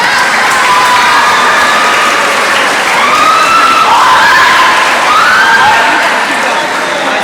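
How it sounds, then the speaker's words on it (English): A school awards-day audience gives a loud, sustained round of applause for students, dense steady clapping with cheering and whoops rising over it. "extra special round of applause for our students here"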